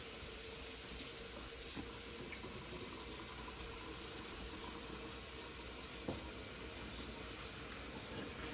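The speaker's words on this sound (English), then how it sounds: "So while the spaghetti is draining in the sink" Cooked spaghetti draining in a kitchen sink, a continuous rushing hiss of hot water and steam, steady and close throughout with no voices.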